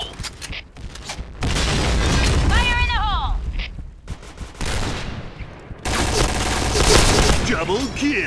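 Grenade explosions in the shooter game Point Blank, with sharp blasts and bursts of gunfire in quick succession, interspersed with whooshing effects and game voice callouts.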